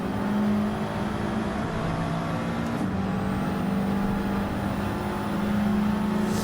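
Several race cars hold a steady, loud engine drone while weaving through AI traffic at Road Atlanta in Gran Turismo 7, with a larger Aston Martin among them, and tones shift slightly as cars pass.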